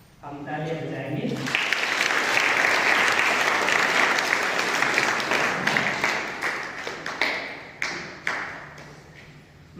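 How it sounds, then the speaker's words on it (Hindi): Congregation at a Guadalupe shrine novena in Bettiah applauds together in a loud, sustained burst of clapping that starts after a short spoken lead-in, then thins into scattered claps toward the end. "हम तालियां बजाएंगे"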